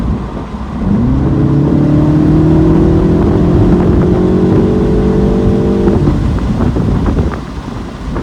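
A 2025 MINI Cooper S Convertible drives with its top open. The engine and exhaust drone rises steadily in pitch as it accelerates, under constant loud wind rush.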